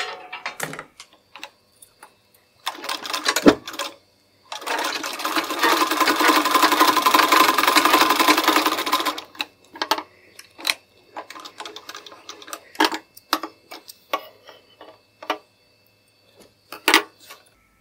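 A sewing machine stitching a blouse runs in one long steady burst of rapid needle chatter, with short clicks, handwheel taps and fabric handling before and after; close and fairly quiet, with no talking.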